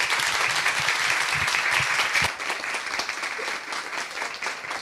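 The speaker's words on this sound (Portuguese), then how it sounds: "Salve de palmas." An audience at a round-table session on migrant population health gives a sustained round of clapping, dense and even throughout, easing slightly halfway but continuing to the end.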